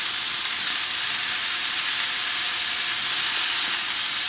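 Venison and beaver backstrap searing in a hot pan, a steady, loud broadband sizzle that holds evenly throughout with no voices.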